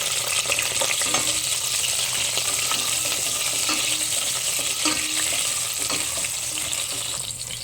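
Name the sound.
garlic and tomato sautéing in a pan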